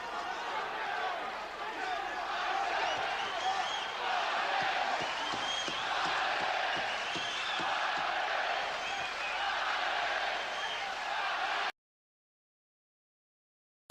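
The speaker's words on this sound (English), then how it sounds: "Mundine's hearing the crowd roar for him." A large arena crowd roars throughout a Mundine vs Kessler boxing bout, a loud, sustained wall of cheering and chatter that drops off suddenly near the end. A commentator's voice runs beneath it.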